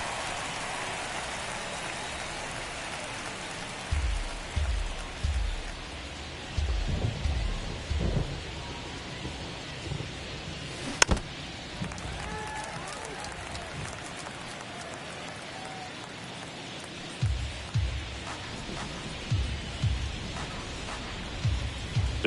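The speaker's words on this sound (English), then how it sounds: "It feels like we might be headed towards a rain delay if the weather doesn't ease up" Steady rain falls over a baseball game in the video game MLB The Show 23, with low rumbles and thuds scattered through the wash of rain and a sharp crack near the middle.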